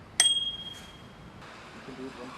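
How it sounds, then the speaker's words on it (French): A bicycle bell rings once, sharp and close, its bright tone decaying over about half a second, then quiet background noise follows. "Les vélos, faut avoir une sonnette."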